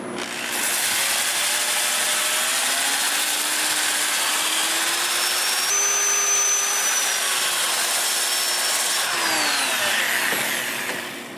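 An English walnut natural-edge crotch bowl is sanded on a spinning lathe with a 2-inch disc, giving a steady, loud whirring drone with shifting whine tones throughout, no voices.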